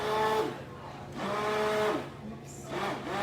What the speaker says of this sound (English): I'm just gonna use the same blender.